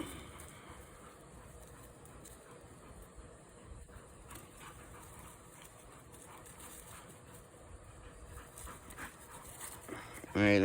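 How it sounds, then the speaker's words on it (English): Several dogs in a park pant faintly and steadily at close range over quiet outdoor background noise, with a brief louder sound at the very end. "A lot of dogs in this park."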